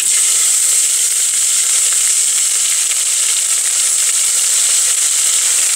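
Onions sizzle in hot oil with mustard seeds and cumin inside a pressure cooker, a close, steady, loud frying hiss that holds evenly throughout with no talking.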